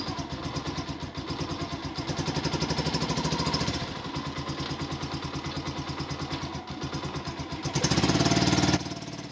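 A Honda TMX 125 motorcycle engine idling with a steady, close putter that dips and stumbles as the throttle is let go, then briefly rises with a short rev near the end.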